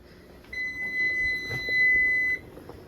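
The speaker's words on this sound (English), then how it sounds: "And there's my oven timer going off." An oven timer in a home kitchen beeps in one steady, moderately loud tone for about two seconds over low room noise, then stops.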